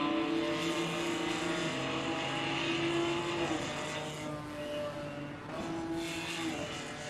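Race cars run wheel to wheel, their engines droning loudly and steadily, pitch rising and dipping through shifts and corners for several seconds, with no talking over them.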